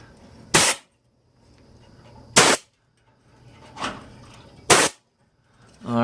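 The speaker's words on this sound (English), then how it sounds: "I'm going to hit it with air and just see if it'll blow away" Compressed air blasts onto build-up in four sharp, loud bursts, each about a quarter second long and separated by quiet pauses.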